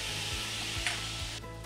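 Garlic and crushed red pepper flakes sizzle steadily in hot oil in a pan, a close, continuous frying hiss with faint stirring scrapes, easing slightly near the end.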